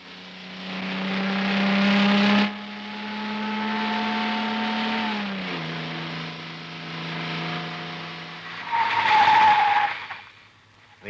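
A car pulls away with a loud, steady rising engine whine and tire squeal, then a short dip and a second sharp screech near the end.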